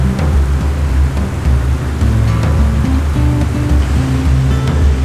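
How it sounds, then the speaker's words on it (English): A steady, heavy roar of rushing water from Brandywine Falls fills the clip, loud and continuous like a big waterfall close by, with no voices. "I hope you guys can hear the sound of the falls right now."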